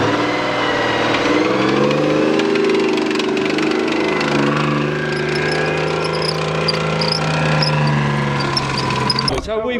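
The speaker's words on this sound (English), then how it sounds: "we're going to fire up our V12 engine" A V12 engine runs at a vintage military vehicle show, giving a continuous, close, mid-pitched drone with slight rises in revs. People talk in the background and an abrupt noise cuts in at the end.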